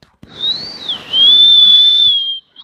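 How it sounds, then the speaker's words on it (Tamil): A whistling rocket firecracker screams with a steady high whistle that bends and holds for about two seconds, loud and close, then stops abruptly. "விஸ்லிங் ராக்கெட் அப்படியே என்னன்னு சொல்கிறது அப்படியே விசில் வச்சுட்டே போகும்"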